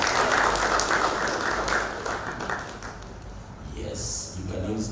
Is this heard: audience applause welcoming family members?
yes